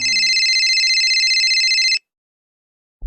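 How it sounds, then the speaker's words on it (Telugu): A phone ringtone trills steadily and loudly for about two seconds, then cuts off abruptly into silence. "అప్పుడు నీ ఫోన్ రింగ్ అవుతుంది."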